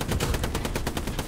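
Rapid automatic gunfire in the World War II shooter game Hell Let Loose, a dense rattling burst of evenly spaced shots, loud and close, with no talk over it.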